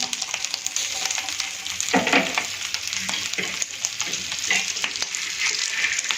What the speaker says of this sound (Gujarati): બધા જ મસાલાને આપણે નોર્મલ ફ્લેમ ઉપર આપણે શેકીશું